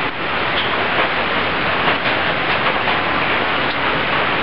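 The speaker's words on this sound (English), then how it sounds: "Been raining for about 30 minutes now and we're a bit flooded out." A steady, loud roar of tropical downpour in Southeast Asia fills the air, continuous and unbroken, like heavy rain drumming nearby.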